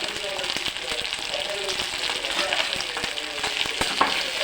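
Small okra pieces fry with onions in a pan, crackling and sizzling continuously with dense popping bursts, close and fairly loud.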